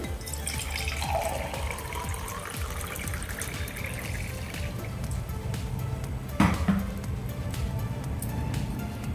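Water pours steadily from a glass into a pan of tempering for a healthy lapashi upma, a continuous splashing rush with a brief louder clatter near the end.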